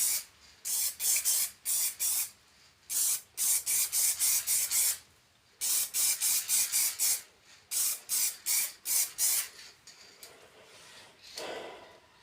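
A spray can coats a Nerf blaster in paint with a rapid series of short, loud hissing bursts in uneven clusters, separated by brief pauses, ending with a longer, softer spray.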